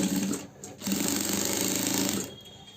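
Sewing machine stitching a double-colour shirt collar: a fast, even mechanical rattle in two bursts, a brief pause near the start, up close and loud, no talk.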